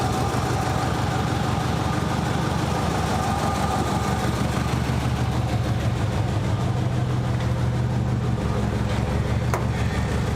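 A Nissan 200SX engine idles steadily in a garage, a continuous mid-low hum with a faint rhythmic pulse heard up close and alone throughout.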